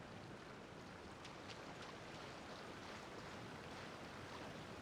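A waterfall in the video game Genshin Impact, a faint, steady broadband rush of falling water that continues evenly without pauses and with no talk.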